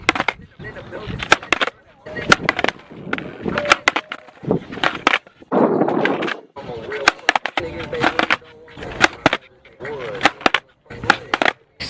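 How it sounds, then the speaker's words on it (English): Repeated skateboard ollie attempts against a fence outdoors: sharp wooden tail pops and board clacks come in irregular bursts, with scuffing and rolling between them. "I practice ollieing on the fence"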